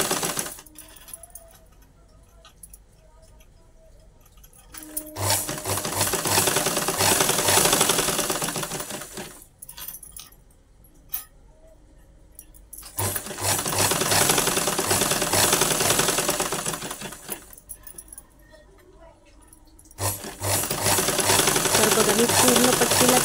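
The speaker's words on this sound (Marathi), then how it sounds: "तर बघा मी आता इथून शिलाई करून घेते." An electric sewing machine stitches piping onto a blouse in three long, loud, close runs. Short pauses separate the runs, during which the motor falls quiet.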